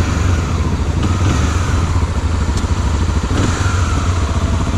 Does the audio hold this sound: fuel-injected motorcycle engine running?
yes